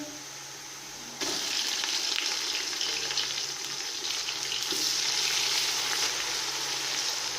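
Something is stirred and set down, then a loud, bright sizzle of ginger garlic paste frying in hot oil with golden-brown onions bursts up and continues steadily.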